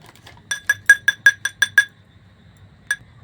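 Four spoonfuls of soda scooped and tipped into a glass bowl for homemade ENO, a run of bright clinks at a steady pace, then one more clink after a pause, close and clear.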